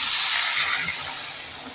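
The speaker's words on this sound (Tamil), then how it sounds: "நம்ம சுத்தம் பண்ணி வச்சுருக்க வாழைத்தண்டை சேர்த்துக்கலாம்." Cleaned banana stem pieces tossed into a hot pan for a stir-fry with neem leaves give a steady, loud hissing sizzle that holds through the whole moment and slowly fades a little.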